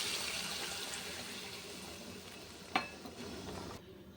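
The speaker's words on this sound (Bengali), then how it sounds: "এই দেখো জল দিয়ে দিয়েছি" Water poured into a pan of fried fish curry, giving a steady hissing sizzle and splash, with one sharp clink near the end before the noise cuts off.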